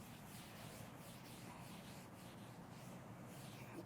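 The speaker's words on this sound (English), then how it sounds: "Let me just rub this off." Steady rubbing as writing is wiped off a classroom board, a continuous soft scrubbing with gentle back-and-forth swells, faint and close, with no talking over it.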